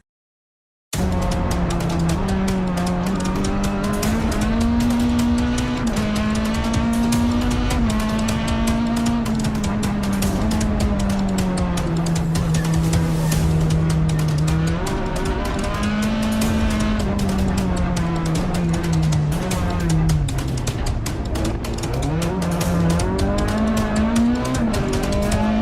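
A Plymouth Hemicuda rally car on wet tyres drives hard through a rally stage, its loud V8 engine droning steadily close up for the whole run, pitch rising and falling with gear changes and occasional tyre squeal.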